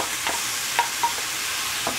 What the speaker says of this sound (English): Now I'm gonna add my tomato.